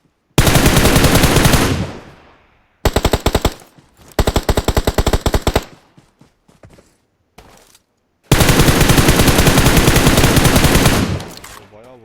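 Automatic weapon fire in PUBG Mobile on the Livik map, loud rapid bursts repeating in several long volleys with short gaps, close and dominant, with no talking.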